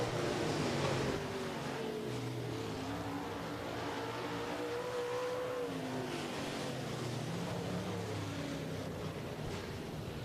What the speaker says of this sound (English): the 46 machine of Colton Ahrens, making his way off of turn number 3 into 4